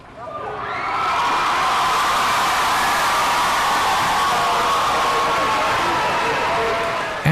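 Parents, family and friends line the streets at a Parris Island Marine graduation and cheer the new Marines, a steady wash of crowd roar and applause that swells after a second and holds.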